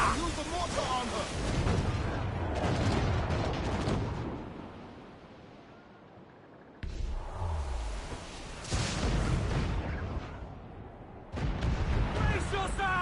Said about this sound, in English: Use the mortar on her!